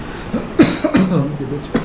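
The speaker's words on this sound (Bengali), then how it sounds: "অলরেডি কাশছি আমি" A single person coughs a couple of short, moderately loud times at close range, with a few breathy sounds between, while resting on a solo monsoon motorbike ride near Sanaghagra Waterfalls in Keonjhar.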